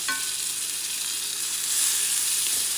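Oil sizzling and crackling in a frying pan, a steady bright hiss without talk, swelling slightly louder toward the end.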